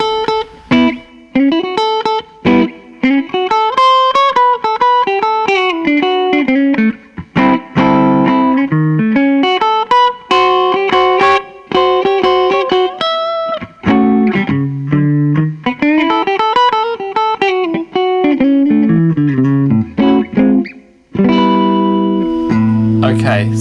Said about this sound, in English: So we'll start the lick dry.